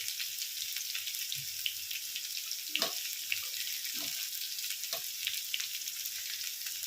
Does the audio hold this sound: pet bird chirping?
no